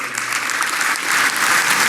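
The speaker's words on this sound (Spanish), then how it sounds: "Un aplauso al Señor." A church congregation bursts into dense, steady applause, many hands clapping together close by and growing slightly louder toward the end.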